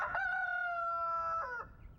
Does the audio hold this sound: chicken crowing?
yes